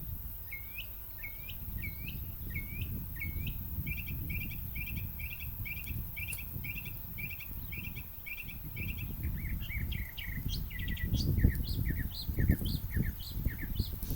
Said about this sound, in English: Let's just enjoy that mockingbird for a second.